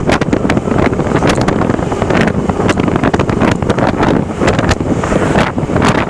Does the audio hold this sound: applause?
no